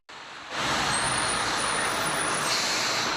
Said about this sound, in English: Loud cars and trucks are nothing new on Vermont roads